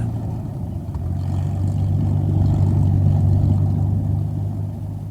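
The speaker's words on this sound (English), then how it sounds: "The engine spluttered as it sprang to life." Aircraft engine spluttering to life in a wartime audio drama, a loud, low, steady drone that builds slightly and holds throughout without voices.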